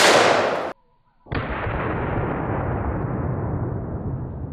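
A .44 Magnum revolver with a 6-inch barrel fires once into a watermelon, a loud sharp blast that cuts off abruptly, then a second heavy burst follows with a long, broad rumbling decay.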